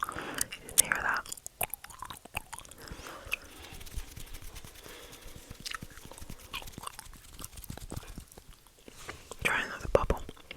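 Gum is chewed close to the microphone with wet, clicky mouth sounds and soft smacks, under steady whispered talking throughout.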